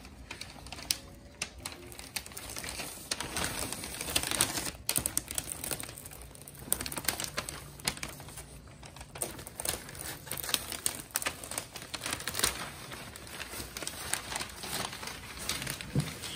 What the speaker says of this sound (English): we can go ahead and start peeling the Plasti Dip.